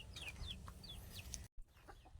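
Backyard breeder chickens give short, quiet clucks and chirpy calls in a soft, rapid scattered series, heard alone with a brief dropout midway.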